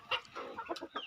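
A native hen clucks in a quick run of soft, close calls, alone and fairly quiet.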